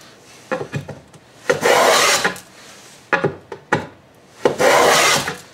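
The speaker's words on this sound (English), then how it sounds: "I'm basically planing just below sternum height" A hand plane works along a tall wooden board at about sternum height, giving two sets of short scraping strokes, each followed by a long, loud rasping pass, close and with no other sound.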